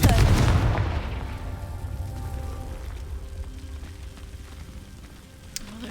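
A Confringo blasting spell explodes in Hogwarts Legacy, a loud booming blast that decays into a long rumbling, crackling tail, with a small pop near the end.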